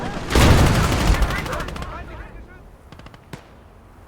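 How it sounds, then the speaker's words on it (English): Heavy artillery in a World War II Battle of the Bulge video game opens with a loud, close burst of rapid blasts that decays over a couple of seconds into scattered distant pops, with a person speaking. "They brought in heavy artillery right where I am?"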